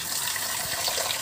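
Water gushes steadily from a tap into a container for sanitizing baby bottles, a continuous loud splashing rush with no pauses and no talking.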